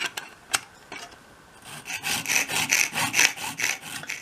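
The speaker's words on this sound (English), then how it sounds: "pop it back in your mitre block and just make a straight cut" A handsaw cuts wood held in a mitre block. A few light taps come first, then a quick run of rhythmic back-and-forth rasping strokes, close and fairly quiet.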